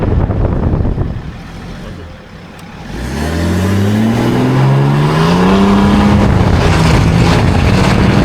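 A tuned Chevrolet 1500 Duramax diesel pickup with a PPE intercooler kit accelerates from low idle rumble into a loud, climbing engine drone, heard close from on board with the pitch rising through gear changes.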